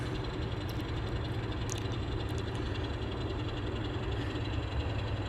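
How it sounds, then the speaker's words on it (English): An N scale model train pulls into the Chillicothe station for an interchange, giving a steady, even rumble and hum that stays close and constant throughout, with faint higher clicks near the start and no talking. "So we caught up with the train when he's pulling into Chillicothe for the interchange."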